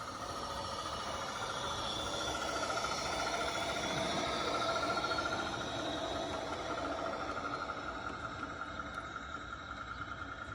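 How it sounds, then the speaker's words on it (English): A G scale radio-controlled Mamod Boulton model steam locomotive rumbles steadily along its track with a continuous whirring hum and faint rhythmic clicking, constant level throughout, no voices. "So here comes the train."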